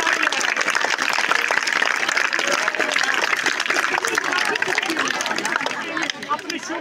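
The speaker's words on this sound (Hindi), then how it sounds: "बेटा जितनी अच्छी आप तालियां बजाएंगे" An audience at a magic show claps in a dense, sustained burst lasting several seconds, mixed with crowd chatter and voices, tapering slightly at the end.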